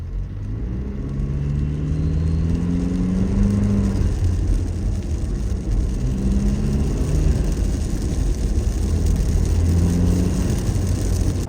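A Toyota Land Cruiser 250 fitted with an SXTH Element intake revs up and settles repeatedly. The engine's rising and falling drone sounds close and loud over a constant low rumble, with no voices.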